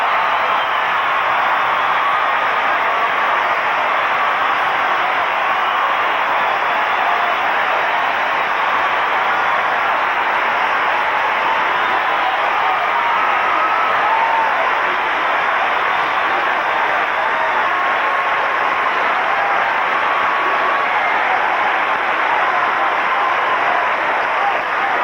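An Olympic figure skating arena crowd at the 1988 men's long program breaks into sustained, loud applause for the gold medalist, a dense unbroken roar of clapping and cheering that holds at full strength throughout.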